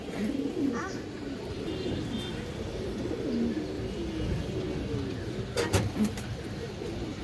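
Several pigeons coo in low, repeated throaty calls at a pigeon keeper's loft of old high-flyer and coloured breeds, with a steady background hum of many birds and a brief rustle near the end.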